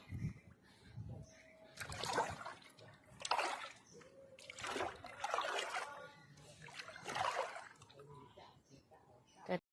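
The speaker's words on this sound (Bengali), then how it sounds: "চলো বন্ধুরা, পুকুরে পা হাতরা ধুয়ে নেই।" Water splashing as hands and feet are washed in a temple pond, with repeated bursts of scooping and splashing between quieter trickles, close up, and people talking at times in the background.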